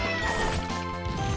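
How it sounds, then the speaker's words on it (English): A cat meows in the video game Castlevania: Order of Ecclesia, heard faintly beneath dense, continuous game music. "So you can hear a cat."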